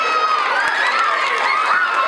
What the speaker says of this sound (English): Can I have a lot of applause for Sierra, who is absolutely right?